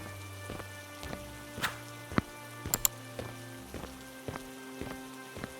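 Rain falls steadily on a surface with scattered heavy drops and faint distant rumbles, while a low steady hum sits underneath and no one speaks.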